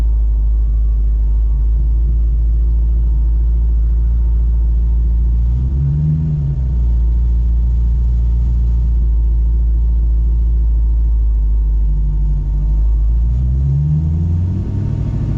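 A 1968 Mustang Fastback V8 with a manual transmission idles with a heavy, steady low rumble, rising in two brief revs from too much gas before settling back to idle.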